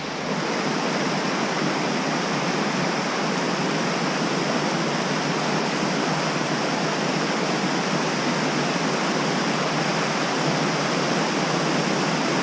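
A waterfall on the Appalachian Trail roars in a constant, dense rush of falling water, steady and close, with no other sounds standing out.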